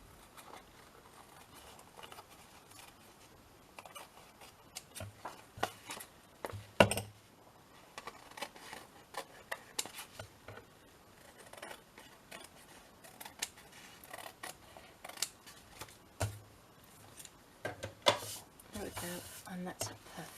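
Scissors snip napkin paper in quick, irregular clicks and small cuts, fairly faint and close, with soft handling rustles between them.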